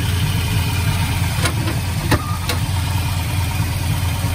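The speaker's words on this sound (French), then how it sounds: "Il tourne très bien. Les 6 cylindres sont là." The six-cylinder engine of a 1973 Triumph TR6 idles steadily nearby, a smooth, even rumble with a constant loud drone and a few faint clicks, heard alone without talk.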